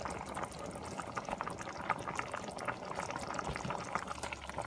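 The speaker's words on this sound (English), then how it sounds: "And then you just continue to boil until the macaroni and the potato will continue to cook." Macaroni and potato soup boils in a pot, a continuous close bubbling and gurgling churn with a soft watery hiss throughout.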